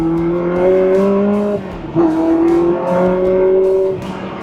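A loud 2004 Ferrari 360 Spider engine revs up through rising tones, drops sharply at a quick F1 paddle-shift gear change, then climbs again, heard from inside the car.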